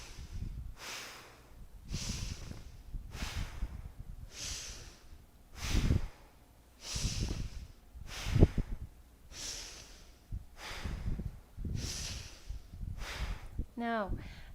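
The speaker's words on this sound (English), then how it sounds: "Now the next one will be inhale energy, exhale fatigue." A deep-breathing exercise in a yoga session, with slow, rhythmic breaths close to the mic, about eight long inhales and exhales in a steady cycle, with no other sounds.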